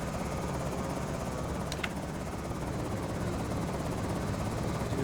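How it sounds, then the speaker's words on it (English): A helicopter in the zombie survival game Project Zomboid drones overhead in a steady, continuous rotor thrum, with a brief faint tick partway through. "We do have a helicopter event."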